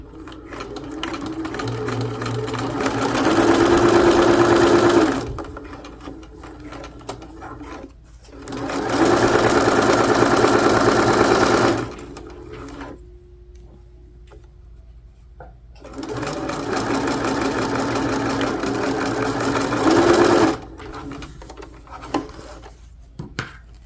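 A sewing machine stitches a seam on a fabric project bag, with three loud bursts of rapid, humming stitching separated by quiet pauses and small clicks from the machine being adjusted.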